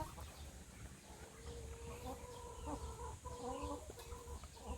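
Backyard chickens of several native Philippine breeds cluck softly and repeatedly in a faint, low-level farmyard scene, with short overlapping calls over a murmur of background noise.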